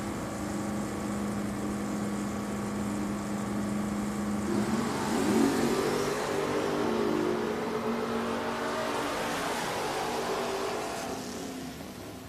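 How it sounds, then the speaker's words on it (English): A 1970 Opel and a 1972 Chevelle race at Richmond Dragway; engines idle and rumble, then rev hard and roar past mid-clip before fading into a lower drone. "The 70 Opel dialed in at a 578. Holston in the 72 Chevelle dialed 645."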